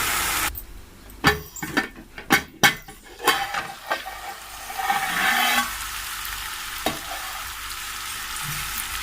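Carrot and chana dal fry in a pan with salt, chili powder and turmeric: a close sizzle runs throughout, broken early by a quick series of sharp spatula knocks and scrapes against the pan, then a few scattered stirring clinks.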